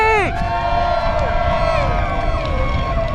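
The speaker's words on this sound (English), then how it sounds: "And how about the crowd at Pikes Peak?" A crowd of race fans at the Pikes Peak hill climb, a dense hubbub of voices and cheering close by, with a voice speaking over the noise.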